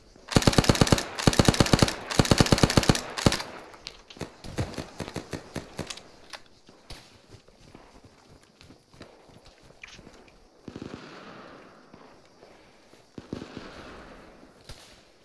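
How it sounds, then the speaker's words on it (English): Gunshots ring out in rapid, loud bursts of automatic fire at first, then thin into scattered single cracks and softer distant pops over the rest of the stretch. "Shots southwest."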